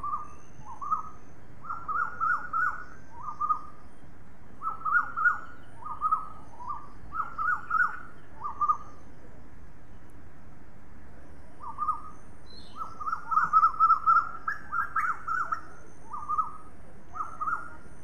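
Birds calling at sunrise, with repeated bursts of short chirping notes in clustered phrases, a pause in the middle, then a louder flurry of calls over a quiet background.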